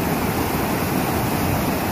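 A waterfall on a river along the Te Araroa trail roars as a loud, dense, unbroken rush of water, close and steady throughout.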